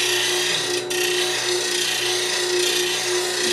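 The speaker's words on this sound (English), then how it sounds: "Now, we're not grinding the tool, we're dressing the bevel." A skew chisel's bevel is lightly dressed against a grinder: a steady, close running hum with a continuous rasping scrape over it, one brief dip near the start, no voices.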